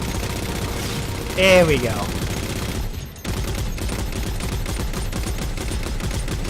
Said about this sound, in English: I actually get on the turret and just start killing things